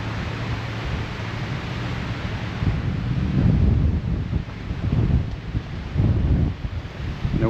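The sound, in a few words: wind blowing at seawall, Acadia National Park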